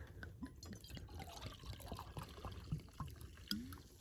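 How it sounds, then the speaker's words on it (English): Hard cider poured into a glass, a soft close liquid trickle and splash with faint fizzing, quiet and alone. "Hard cider. There we go. Pour myself a swig."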